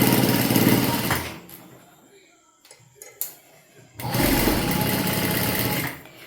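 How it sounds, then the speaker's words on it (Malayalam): A sewing machine stitching a skirt seam with a half-inch allowance, running loud and continuous for a second, pausing with a few light clicks, then starting up again in a long steady whirring burst. "അതുകൊണ്ട് നമുക്ക് നല്ല തയ്യൽ തുമ്പ് 1/2 ഇഞ്ച് ഇട്ട് തന്നെ തയ്ക്കണം."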